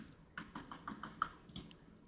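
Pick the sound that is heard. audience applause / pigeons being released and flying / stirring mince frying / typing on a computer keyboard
typing on a computer keyboard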